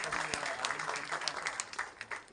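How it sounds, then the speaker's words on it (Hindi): Audience applause at the trailer launch of the Bollywood film Bhaiyya Ji, a steady burst of crowd clapping with some voices mixed in. "इसलिए एक बार बंदा के लिए एक बार जोरदार ताली चाहिए।"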